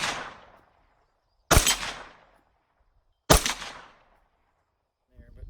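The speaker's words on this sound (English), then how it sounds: "So I'm going to take 3 shots unsuppressed" Two unsuppressed 9mm gunshots, each a sharp, loud crack with a decaying ring-out, spaced about two seconds apart, followed by a faint click near the end.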